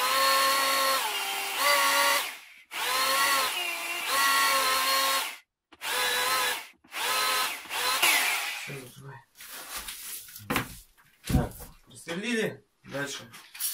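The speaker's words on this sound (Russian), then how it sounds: "Без удара сверлим." A rotary hammer drill in non-impact mode whines in repeated bursts of a few seconds each while drilling with water feed during brick sauna stove construction, stopping and starting, followed by clattering handling noises near the microphone.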